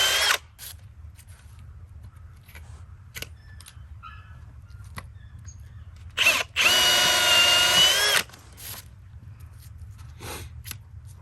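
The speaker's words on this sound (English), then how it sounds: "so he's gonna start drilling the holes" A power drill whines in short bursts, then runs in one longer steady stretch while drilling holes in a white oak log for shiitake inoculation, over a low background hum, with a few clicks and knocks between.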